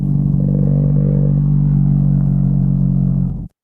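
Recorded buzz signal from a male animal at a cold temperature: a steady, loud low-pitched drone lasting about three and a half seconds, then cutting off abruptly.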